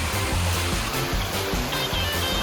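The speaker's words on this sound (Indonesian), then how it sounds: "Wah, air terjunnya deras sekali." A loud, steady rushing roar of heavily falling water from a waterfall at Ampera Waterpark, Tasikmalaya, fills the scene without pause.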